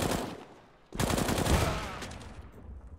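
Gunfire in the PUBG battle game: a rapid burst of close, loud shots, a brief lull, then a second sustained volley that fades out with a final crack at the end.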